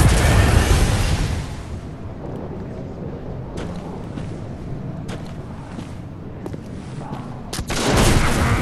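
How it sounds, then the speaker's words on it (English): Gunfire in the PS4 game Bloodborne, a loud booming blast at the start, then a steady rumbling din with scattered sharp shots, and another heavy burst near the end. "Oh my god, please stop shooting! Please stop shooting!"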